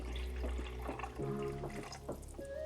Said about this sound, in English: I'm going to add 2 more cups of water